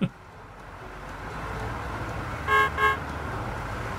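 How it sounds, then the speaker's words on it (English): In Motor Town, a car horn gives two short, close honks over a steady rumble of engine and road noise while driving, followed by continued engine hum. "That's a friendly honk"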